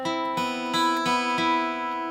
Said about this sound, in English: I leave the top two high strings open to give it a dissonant sound.